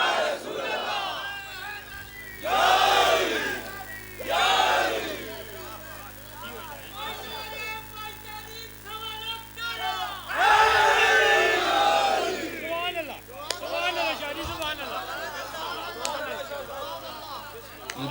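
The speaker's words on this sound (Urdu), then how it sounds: "جو بندے نعرے لگا رہے ہیں" A large crowd shouts religious slogans in unison at a Sufi gathering honoring Hazrat Ali, several loud massed bursts rising and falling across the stretch, with a speaker's voice and crowd murmur between them.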